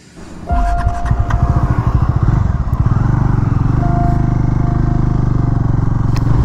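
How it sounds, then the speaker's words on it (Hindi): A motorcycle pulls away on a ride, its engine revving up from a low idle into a steady, loud, close throttle drone with rhythmic pulsing, plus some clatter and wind. "फिलहाल हम लोग अभी निकल रहे हैं बाइक पे"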